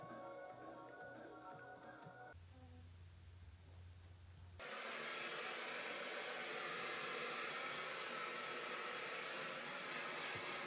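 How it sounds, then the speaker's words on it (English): A hair dryer blow-drying hair starts up after a few seconds of quieter room sound. It settles into a loud, steady, breathy roar that lasts to the end. "I've just blow dried my hair."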